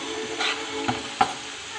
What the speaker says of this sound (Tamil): ஸோ தக்காளி சூப்பராக வதங்கிடுச்சு.